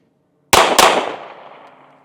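Two sharp, loud gunshots from a Shield Plus pistol, fired about a quarter second apart at close range, with a long fading echo trailing after the pair.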